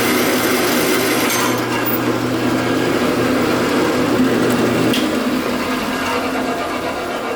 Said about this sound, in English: I'm always scared to use this saw because it's another one. It has no safety features